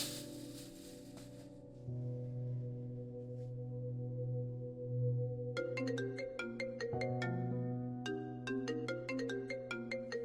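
A phone rings on an unanswered call, a melodic ringtone repeating steadily for about ten seconds at moderate level with no one picking up and no talk over it.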